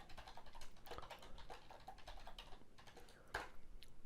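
Keyboard typing a password during a Windows Server 2016 installation, a quick irregular run of close key clicks with one sharper keystroke near the end, no voices.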